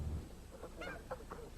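Geese honk a few times at moderate distance, short nasal calls spaced over a second or so against a faint outdoor background.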